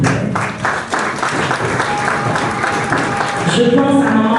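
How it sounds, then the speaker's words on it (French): An audience at a gathering honouring women applauds, a dense, continuous wash of clapping close and loud throughout, with a voice faintly audible near the end. "Est-ce qu'on peut les applaudir, s'il vous plaît?"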